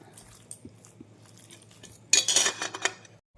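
Rice being mixed by hand on a plate with fried chili and its oil, quiet soft squelching at first, then a burst of close metallic clinks and scrapes of plate and cutlery before falling silent.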